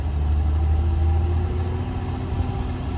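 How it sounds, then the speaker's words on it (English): A 1940 Plymouth engine runs steadily with a low, loud rumble, throttled up a little while it powers an Autolite generator on a low battery, with no talk over it. "Okay, fired up our 1940 Plymouth."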